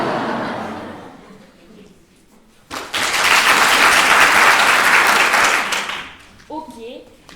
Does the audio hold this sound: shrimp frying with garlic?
no